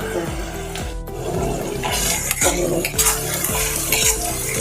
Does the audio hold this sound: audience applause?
no